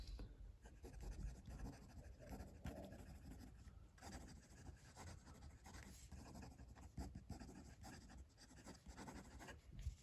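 A Leonardo Momento Zero Grande fountain pen nib scratches quickly across paper, close and quiet, a continuous dry rasping with rapid strokes and brief pauses between words, no voices.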